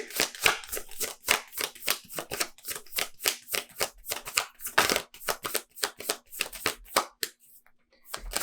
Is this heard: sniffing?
no